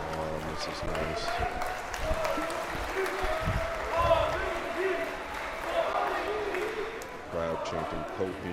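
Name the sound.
crowd chanting Ko's name at pool match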